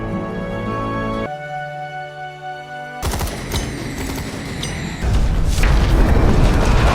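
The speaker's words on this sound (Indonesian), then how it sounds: "Kemudian ledakan besar terjadi, membuat Bravo hampir tewas tertimbun bebatuan." A big explosion in a horror comedy film sends rocks tumbling down, with a sudden loud blast breaking in over a musical tone, followed by rumbling debris and a heavier roaring crash near the end.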